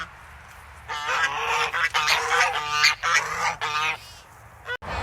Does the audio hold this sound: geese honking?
yes